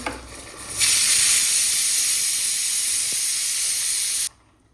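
Thick white rassa curry boils on a gas stove, giving a loud, steady steam hiss that starts abruptly, holds for several seconds, then cuts off, with no talk.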